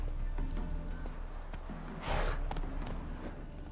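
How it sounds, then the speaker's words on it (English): A horse gallops in The Witcher 3 video game, with rhythmic hoofbeats under game ambience and a brief louder whoosh midway. "Run, Roach"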